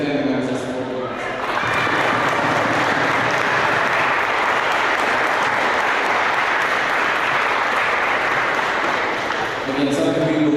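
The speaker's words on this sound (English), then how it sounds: "You guys need to give a round of applause for your parents and family members that support you guys." Loud sustained applause from an audience at an eighth grade graduation ceremony in a school, a dense wash of clapping that swells quickly and holds steady, with brief speech at the start and end.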